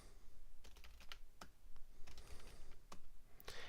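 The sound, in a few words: typing gibberish on a Mac keyboard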